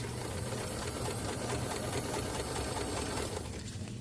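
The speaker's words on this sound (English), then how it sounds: "I'm top stitching, and it's stitching the outside of the coat down through the placket." A sewing machine runs steadily while top stitching a winter puffer coat through its placket, a fast, even mechanical chatter that stays close and continuous before easing off at the end.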